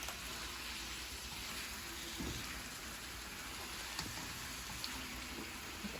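Cooked taco meat and its grease tipped into a drainer for nachos, a continuous dense hiss like steady pouring or rain, fairly loud and unbroken.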